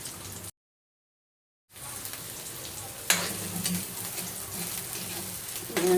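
Chopped onions sauté in a hot pan, giving a continuous close sizzle with stirring. The sound cuts out briefly near the start, then grows louder and busier.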